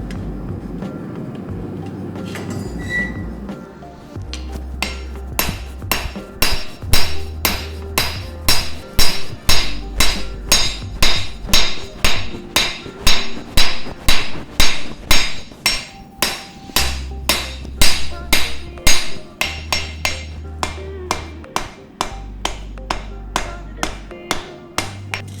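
Hammer blows ring out while a kukri blade is forged, a steady run of loud, sharp metallic strikes at a quick even rhythm, broken by short pauses, with a low thudding pulse underneath.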